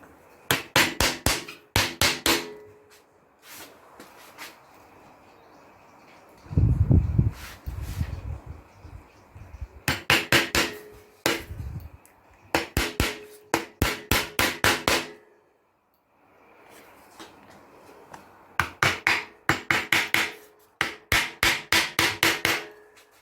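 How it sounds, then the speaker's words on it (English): Panel pins being hammered into a wooden entertainment unit panel: rapid bursts of sharp, close hammer taps separated by brief pauses and a few heavier knocks, with no talk. "It has to be panel pinned."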